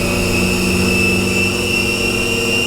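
An R&R DC spindle motor on a D&M4 CNC mill whirs at speed near 3,000 RPM, a loud steady tonal drone with high whine overtones, close and constant with no pauses.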